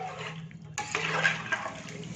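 Water is poured in a sudden, steady splashing rush into a pan of samba wheat rava vegetable upma, starting partway through over a low kitchen hum.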